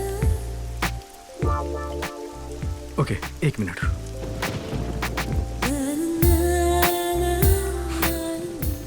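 Steady rain falls and patters on surfaces throughout, with people talking over it nearby.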